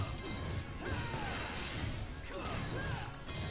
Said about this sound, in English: I feel bad smashing these trees.